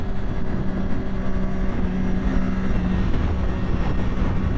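A 2012 Triumph Daytona 675 pulling in third gear near 8,000 RPM, a steady, loud, dense roar with strong wind noise throughout, no clear rise in pitch.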